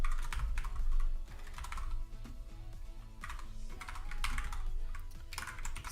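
Fingers type on a computer keyboard in close, rapid clicking bursts separated by short pauses, with some low background hum and no talk.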